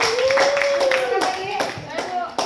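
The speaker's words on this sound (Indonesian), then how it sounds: "Ya, tepuk tangan untuk Andes." Classroom audience applause during a physics education lesson, scattered claps over a steady bed of noise with a voice sliding through the middle; fairly close and moderately loud.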